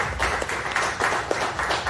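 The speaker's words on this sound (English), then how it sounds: "So can we have a huge round of applause for Jürgen?" Audience at an AI community evening event applauds, a brief burst of dense clapping with a few louder individual claps standing out.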